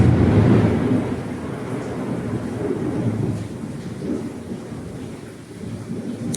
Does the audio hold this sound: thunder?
yes